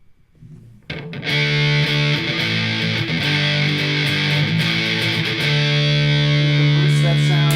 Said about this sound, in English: Into a fuzz.